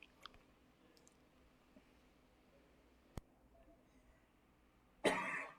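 A single cough bursts out close and fairly loud near the end, after a few faint clicks and quiet room tone, during a webinar on cattle nutrition.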